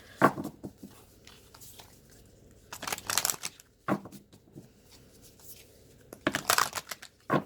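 Tarot cards are shuffled in several short riffling bursts separated by pauses, close and fairly quiet.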